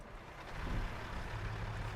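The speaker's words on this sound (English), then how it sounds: "I'm going to actually turn the truck on first." A truck engine in American Truck Simulator turns over and settles into a low, steady rumble, faint and brief with a droning hum underneath.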